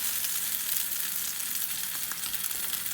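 Tinned vegetables simmer and fry in their own juices with oregano and thyme, making a steady, even sizzling hiss close by with no voices.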